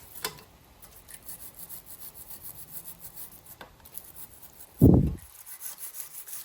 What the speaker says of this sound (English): here I have another wire brush which is a lot softer, and I can actually use it on this without damaging